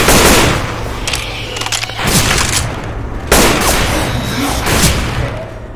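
Repeated shotgun blasts in Left 4 Dead 2, loud and close, with broad booming bursts rolling over continuous game noise and a brief lull between volleys.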